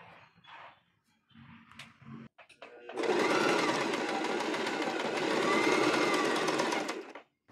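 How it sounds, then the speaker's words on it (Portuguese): Sewing machine stitching crochet dress pieces together, a steady close whir running loud and continuous for several seconds after brief handling noises and quiet talk at the start. "Agora eu vou costurar."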